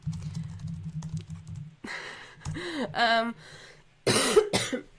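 A couple of short coughs break up a stretch of keyboard typing and some low background hum, with brief bursts of noise between them.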